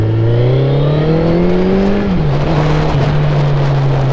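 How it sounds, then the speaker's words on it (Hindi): A motorcycle engine runs close and loud, its pitch climbing as it revs, then dropping and settling into a steady hum. "तो थोड़ा बाइक निकाला हूँ"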